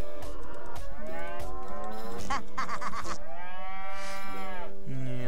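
Cows moo repeatedly in the video game South Park: The Stick of Truth, with loud, drawn-out bellowing calls overlapping one another continuously, close and prominent.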